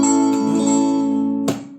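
Acoustic guitar strummed as a bar chord with the strings set too high above the fretboard, giving a buzzy, muted ring that decays, then a second strum near the end.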